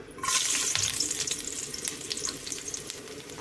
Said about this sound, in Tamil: இப்போ வந்து எண்ணெய் வந்து சூடானதுமே பூண்டு போட்டுக்கலாம்